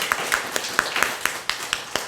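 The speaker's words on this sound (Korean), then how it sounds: "우리 수고해 주신 우리 사모님께 박수를 한번 보내드릴까요?" A church congregation claps in brief, evenly spaced beats, roughly four per second, moderately close with a light murmur beneath.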